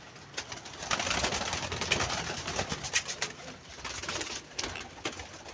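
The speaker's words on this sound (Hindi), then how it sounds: "ये देखें दोस्तों, कबूतर बाहर निकाल ही जा रहे हैं" Pigeons coo softly and steadily over a constant hiss of background noise, with a few sharper taps and flutters in between.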